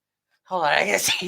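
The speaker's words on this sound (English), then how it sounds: "I just realized I was sneezing." A single loud, close human sneeze bursts out abruptly after a brief silence, with a short voiced tail at the end.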